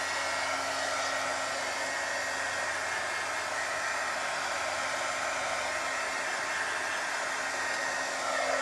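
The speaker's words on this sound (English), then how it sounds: "this is my heat tool. It's just an embossing tool." An embossing heat tool blows hot air in a continuous loud whooshing hiss, steady and close throughout, with no voices.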